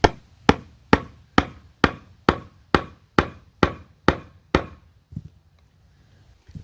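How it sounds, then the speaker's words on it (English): A steel wedge is hammered into the bottom end of a wooden spindle for making a Scottish spindle, with eleven sharp, evenly spaced blows that each ring and decay, followed by a quieter knock and near silence. "I'm going to put it towards the bottom end of the spindle and hammer."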